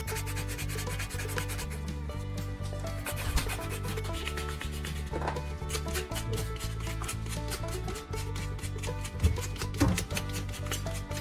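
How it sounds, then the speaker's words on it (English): Sandpaper scrubs oxidation off the metal posts of car battery terminals in steady, close back-and-forth rasping strokes, a continuous gritty rubbing with occasional louder scrapes and no speech. "I use sandpaper to remove oxidation from the positive and negative posts."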